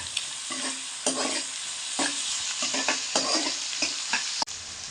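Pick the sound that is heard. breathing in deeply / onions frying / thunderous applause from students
onions frying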